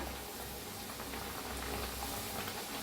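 Pumpkin dough puffing up as it fries in very hot oil, a steady, dense bubbling hiss that continues evenly throughout, close and moderately loud with no talking.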